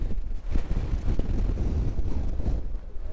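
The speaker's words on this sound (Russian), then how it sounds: "Ветер на просто мега сумасшедший." Powerful wind at a viewing platform in Oia, Santorini, pounds the microphone in uneven gusts, a deep, blustery roar with sharp thumps, close and loud throughout.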